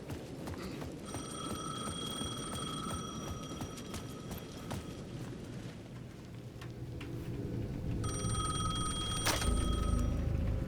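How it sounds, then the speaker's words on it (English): A payphone rings in the Alan Wake 2 video game, its repeated electronic bell tones sounding twice in bursts over a dense, rumbling ambient background with rain-like noise, growing louder toward the end. "The payphone at the edge of the plaza was ringing again."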